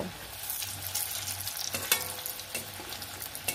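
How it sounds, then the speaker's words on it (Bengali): Potato pakoras sizzle in hot oil over low heat, a continuous bright crackle with occasional sharper pops and light scraping, close and fairly loud, with no voices. "আঁচটা কমিয়ে রেখে পকোড়াগুলো ভেজে নিতে হবে যাতে ভেতরটাও ভালোভাবে কুক হয়ে যায়।"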